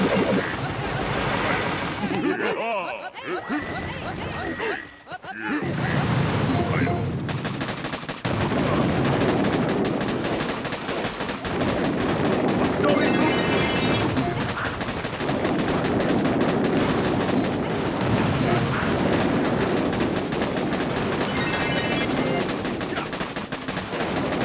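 Sustained gunfire and artillery pounding boom cannons in the Boom Beach warships mode, rapid machine-gun bursts and heavy booms rolling almost continuously over about twenty-five seconds, with someone talking over the battle.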